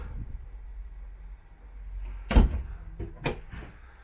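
Corner cupboard doors in a 2021 Grand Design Imagine 2400BH travel trailer kitchen open with two sharp knocks and clacks against a quiet room.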